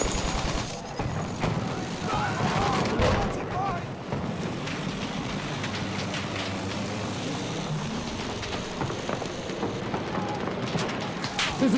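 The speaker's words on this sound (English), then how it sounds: "There's a machine gun." Battlefield 1 battle at Cape Helles with dense gunfire and machine gun bursts amid wind and engine rumble, sharp cracks scattered throughout over a constant noisy backdrop, with a voice speaking briefly.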